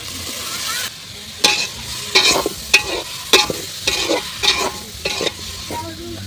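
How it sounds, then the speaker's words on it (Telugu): Onions and green chilies frying in an oiled pan, stirred with a spoon in repeated scraping strokes over a soft sizzle, about nine distinct stirs. "ఉల్లిపాయ పచ్చిమిరపకాయలు తిప్పుకుందాం"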